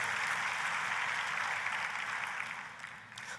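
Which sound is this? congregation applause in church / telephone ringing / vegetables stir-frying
congregation applause in church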